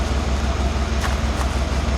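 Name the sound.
1991 Cadillac Brougham exhaust revving off idle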